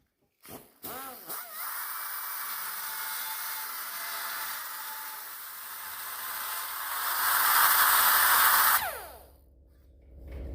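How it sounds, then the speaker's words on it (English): A 70-year-old die grinder enlarging a hole in metal, a steady high whine that runs for several seconds, builds louder near the end, then cuts off and spins down. "you take your favorite 70-year-old die grinder and you need to open up this hole to your Sharpie line that you made"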